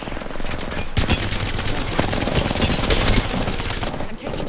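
Rapid automatic gunfire in an Apex Legends match, dense bursts of close, loud shots rattling almost without pause, with overlapping game effects.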